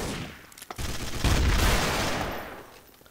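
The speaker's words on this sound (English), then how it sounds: "Shots fired, 1028." Gunshots in the video game Garry's Mod, a loud burst of rapid shots merging into a sustained rumbling volley that swells in the middle and fades toward the end, with no talking.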